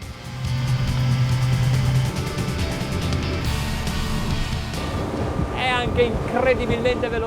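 A Boston Whaler 270 Vantage speedboat runs flat out at about 6,350 RPM and 44 knots, its engine drone merging with steady wind buffeting and rushing water, loud and close throughout.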